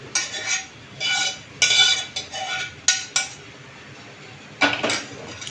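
Mushrooms tipped into a pan for paneer and mushroom biryani, bringing several sharp clattering bursts of a metal spoon scraping and knocking against the pan, close and loud with quiet gaps between.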